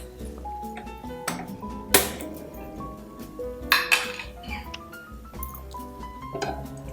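Metal cookware clanks and rings on a gas stove as a frying pan (bandli) is set down, with a few sharp clinks and knocks among dishes in a home kitchen, fairly close and clear, no talking.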